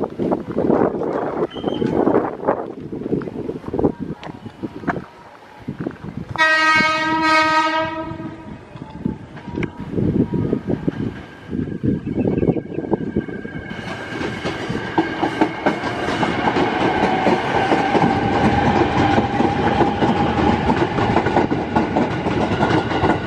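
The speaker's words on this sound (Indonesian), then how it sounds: "Ini ada KRL lagi nih yang lewat" An Indonesian KRL electric commuter train heading toward Manggarai rumbles past, sounding a long horn midway before the steady roar and rattle of cars builds and continues.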